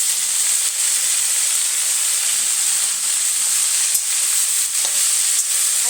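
Water spinach (kalmi greens) sizzles steadily in hot oil with garlic, chili and nigella seeds, a loud, even frying hiss with faint stirring clicks and no voices.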